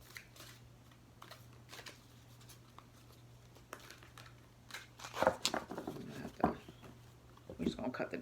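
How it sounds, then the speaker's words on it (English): A deck of oracle cards is handled and shuffled at close range: quiet papery riffles and taps that grow louder and more clustered in the second half, with speech faintly present. "These are a little harder to shuffle."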